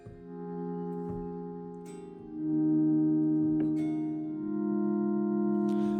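Sustained ambient guitar drone run dry through effects pedals with no modulation or reverb, layered steady tones that shift pitch in a few soft steps, clean and alone with no voices.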